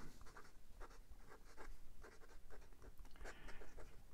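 A Kanwrite fountain pen nib with a wet, toothy feel is pushed in reverse across paper, giving a close, continuous run of soft scratchy strokes in short repeated bursts.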